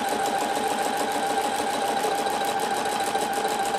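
A sewing machine runs steadily while stitching a long mending repair on fabric, a fast even mechanical whir and rapid needle chatter that holds constant and close throughout, with no voices.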